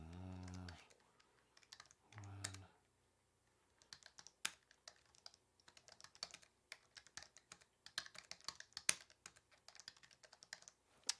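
Keys clatter on a computer keyboard in bursts of rapid, uneven taps, close and fairly quiet, after brief speech at the start.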